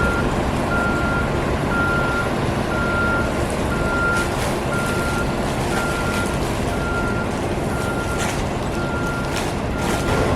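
Heavy buses idle and pull in at a busy New York bus terminal, a steady loud diesel rumble with a repeating reversing beep sounding throughout and faint hiss of air brakes.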